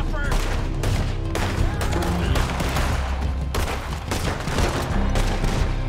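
Dense, continuous gunfire from a Red Dead Online bounty-hunting shootout, volleys of shots cracking over a loud, busy game mix for the full stretch, with no pause between bursts.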